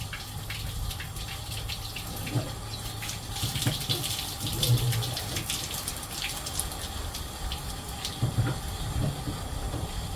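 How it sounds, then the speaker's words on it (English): Water runs steadily into a caravan's water tank, a continuous splashing gush with patter-like droplets, moderately loud and alone without talk. "get the caravan full of water, getting ready to go to the drags"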